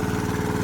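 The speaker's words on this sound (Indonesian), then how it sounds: "Jadi dia ambil dari sumur yang dibor, terus disedot dengan mesin diesel gini kan." A diesel engine drives a pump drawing water from a bored well on sandy farmland, a steady close chugging drone with a fast regular pulse.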